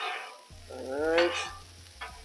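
Chicken, broccoli and carrots frying in sauce on a Blackstone griddle, a steady sizzle with scraping stir strokes from a spatula, with a brief voice-like tone rising over the cooking noise.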